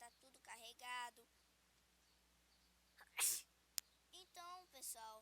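A single sharp, close sneeze bursts out midway between stretches of quiet speech, with a brief click right after it.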